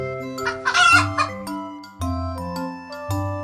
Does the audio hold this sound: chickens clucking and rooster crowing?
yes